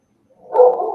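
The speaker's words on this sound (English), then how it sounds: "Yeah, I hear a dog." A single dog bark or yelp heard during an open panel discussion, fairly loud and slightly muffled, rising after a brief silence and trailing off.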